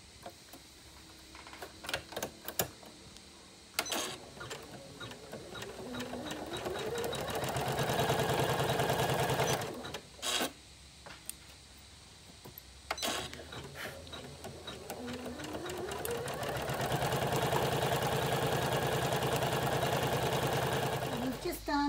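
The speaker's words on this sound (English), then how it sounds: "Then go ahead and stitch that colour." An embroidery sewing machine stitches green thread in the hoop for coat hangers, a fast rhythmic mechanical chatter that starts and stops several times with pitch rising as it speeds up, close and steady.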